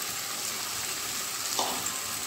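Fried potatoes go into a pan for a hilsa-head and cabbage curry, giving a steady close sizzle with a brief clatter of stirring midway.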